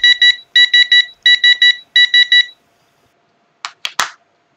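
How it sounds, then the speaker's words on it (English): Loud, close electronic beeps from a pressure cooker whistle counter's automatic gas switch-off alarm, in rapid groups of three or four, repeating four times, then a pause followed by a few short clicks. "Press OK button to switch off that alarm."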